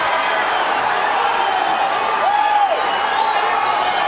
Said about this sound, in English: The crowd cheering feverishly for their hometown favorite, Diego Saraiva.